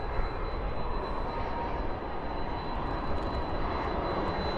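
An Airbus A319 airliner arriving at Dallas/Fort Worth airport at night, a loud, steady broadband engine roar with a faint high whine, heard alone without talk.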